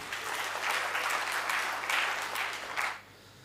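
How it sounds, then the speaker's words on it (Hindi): An audience at a Hindi poetry recital claps for a child, a dense burst of applause lasting about three seconds that then stops abruptly. "बहुत बढ़िया, बच्चे के लिए तालियां"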